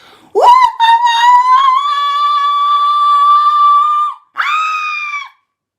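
A voice imitates a long, loud howl, holding a steady wavering note, then breaks off briefly before a second, shorter howl.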